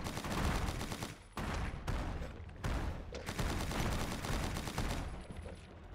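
Grenade blasts and gunfire in the video game Lovecraft's Untold Stories, a loud, dense barrage of booming bursts and rattling shots that comes in several waves with short gaps between them, and no talking.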